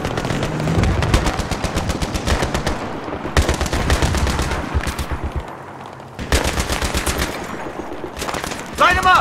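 Loud bursts of machine gunfire in the military shooter Battlefield 3, rapid rattling volleys that stop and restart several times, close and dominant, with no talking.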